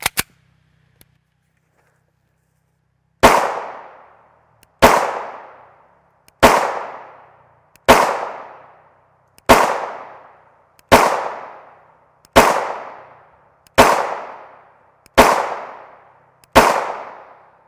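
Ten loud pistol shots from an FN 5.7 Mark II USG with a 4.75 inch barrel firing 5.7x28mm SS201 40-grain FMJ rounds, evenly spaced about 1.5 seconds apart, each a sharp crack with a short decaying tail, after a brief quiet start.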